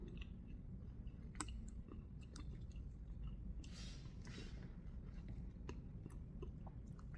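Soft, close chewing of karimeen fish pickle, faint wet mastication with occasional small clicks and crunches in a quiet room, no talking.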